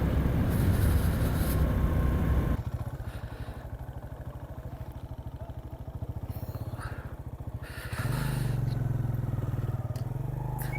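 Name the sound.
motorcycle riding on a mountain bike tour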